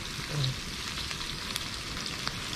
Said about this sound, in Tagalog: sama na sa gisa to, yung ating tahong